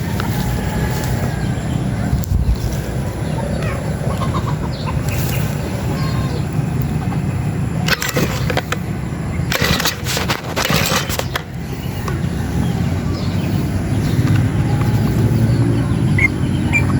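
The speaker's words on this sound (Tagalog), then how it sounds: "So karon akong i-warm up ang makina mga katuski." A lawn mower engine warms up behind a house, holding a steady, fairly loud low drone for the whole stretch, with a few brief rougher bursts partway through.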